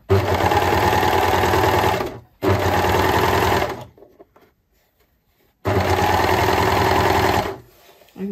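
An overlock sewing machine stitches a seam in three steady, loud bursts of fast mechanical whirring, separated by brief pauses, close up.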